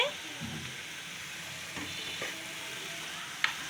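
Noodles with vegetables and chicken fry in sauce in a pan, a steady close sizzle with light stirring scrapes and a sharp clink near the end.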